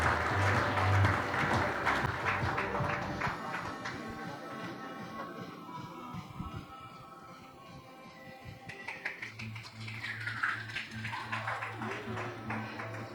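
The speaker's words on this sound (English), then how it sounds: "Everyone, please give her a big round of applause." Audience applause at a corporate speaker felicitation event, a dense crackle of clapping under a loud low hum that thins midway and then swells again, with no talk over it.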